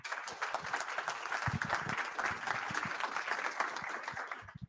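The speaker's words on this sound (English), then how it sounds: "Give him a round of applause." A tech meetup crowd applauds a speaker being introduced, with dense, busy clapping from many hands that holds steady for several seconds and then fades at the end.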